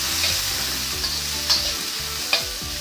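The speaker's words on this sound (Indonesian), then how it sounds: "aduk lagi." Chopped red chilies and bird's-eye chilies being stirred with salted fish in a frying pan: a steady close sizzle with a few sharp scrapes of the spatula against the pan, no voices.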